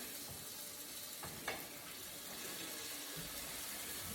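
Salmon cake patties searing in a hot pan, a steady close sizzle and hiss running throughout with one brief clink near the middle, no talking.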